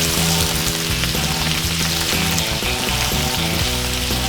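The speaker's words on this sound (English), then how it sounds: "So we're going to saute this, like I said, for about 5 minutes until it gets softened." Food sizzles and fries steadily in a cast iron pan heated to about 430 degrees, with oil and lemon juice, a loud, close, continuous crackle with no talking.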